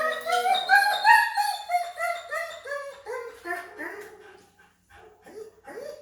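A dog whines in a series of high, wavering cries close by, rising and falling, trailing off into short whimpers.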